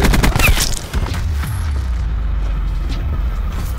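Gunfire in Call of Duty: Black Ops 4, a 2v2 gunfight match: a quick cluster of loud shots and a booming hit at the start, then a lingering rumbling tail that fades into quieter background.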